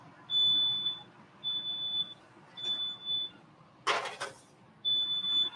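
A kitchen smoke alarm, set off during cooking, sounds a shrill high beep in steady pulses, five bursts in a row. A short broadband burst of noise breaks in near the end.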